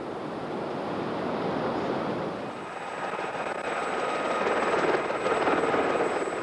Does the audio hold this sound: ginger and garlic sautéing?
no